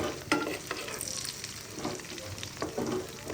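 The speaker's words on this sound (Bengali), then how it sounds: "চিংড়িগুলো ভাজা হয়ে গেছে, আমি এখন তুলে নিচ্ছি।" Fried shrimp are lifted out of hot oil for a shrimp bhuna, a soft continuous sizzle with a few scraping stirs and light spatters, close and fairly quiet.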